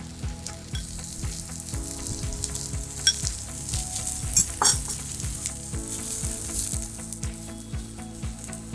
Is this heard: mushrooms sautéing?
yes